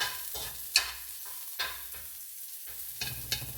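Garlic sautés in a hot pan with a bright, crackling sizzle that swells and fades as a utensil stirs, with sharp scraping clicks at irregular intervals.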